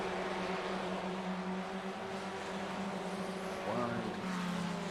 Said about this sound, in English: Ascension racing car throwing down the fastest lap of his race.